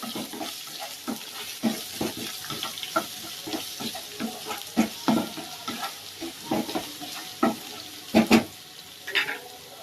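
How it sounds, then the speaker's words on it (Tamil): Oil sizzles and crackles in a pan as garlic and chili are sautéed, a utensil repeatedly stirring and scraping, with clustered clanks and bursts of frying throughout, no voices. "இதெல்லாம் நல்லா வதக்கி விட்டுறலாம்."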